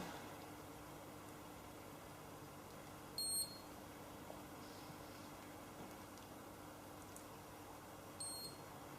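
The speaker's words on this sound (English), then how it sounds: "That final beep just tells me again that I've come to the end of that phase" A galvanic spa facial machine gives two short, faint electronic beeps about five seconds apart over a quiet room hum.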